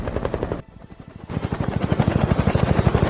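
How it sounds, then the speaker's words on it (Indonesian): Rescue helicopter arriving, its rotor thudding in a fast steady rhythm, loud and close, briefly dipping before the beating returns stronger and continues throughout. "Baru saja helikopter penyelamat datang"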